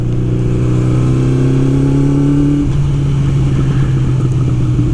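A Honda CB 750 café racer motorcycle engine running steadily, a loud, smooth, close drone whose pitch drops slightly partway through, with no voices.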